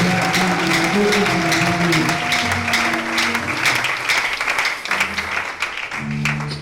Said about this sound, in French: Votre acclamation ne me donne pas le droit de parler.